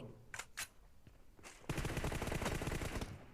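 Automatic gunfire in the mobile game PUBG Mobile rattles in a fast, dense, loud burst over the final half, preceded by a few sharper isolated shots amid quieter game sounds.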